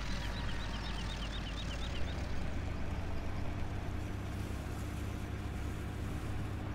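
Rotor and engine drone of a helicopter in the Farming Simulator 2017 video game, a steady loud broadband whir that holds evenly throughout with no talking.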